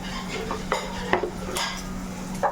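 A spoon scrapes and clanks in a cooking pot as spice masala with ground spices and salt is stirred. Irregular metallic knocks sit over a steady low hum, with no voices.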